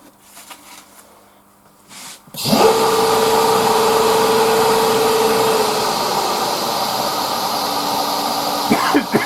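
A live edge wooden bowl spins on a lathe under abrasive sandpaper, a loud, steady whirring rasp starting abruptly after a few quiet seconds of faint handling noise and running on continuously.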